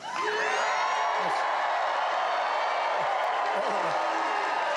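A large crowd at a Donald Trump rally in Greensboro, North Carolina, cheers and applauds continuously, a dense, steady roar with scattered whoops filling the whole stretch.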